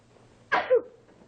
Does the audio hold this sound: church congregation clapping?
no